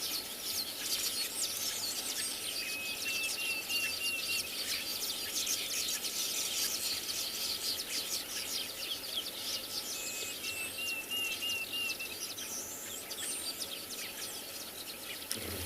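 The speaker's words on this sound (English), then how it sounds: "I can hear a Deirdre's cuckoo calling." Diederik cuckoo calling near a bird breeding colony in South African bush at morning, its faint, repeated whistled phrases carrying from a distance over a dense chorus of insects and other birds.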